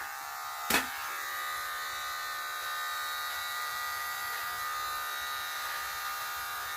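An electric trimmer buzzes steadily and close while trimming a goatee beard, a continuous even drone after a single short knock near the start, with no talking.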